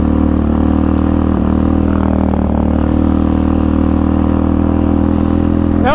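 A Big 5 Ford Raptor truck engine runs in a loud, constant, close drone at steady revs, with a rough clattering texture throughout and a short rising sweep right at the end.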